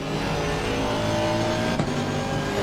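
A high-pitched Aston Martin GT3 racing engine in Assetto Corsa Competizione drones steadily at full throttle, loud and continuous, with a brief dip near the end.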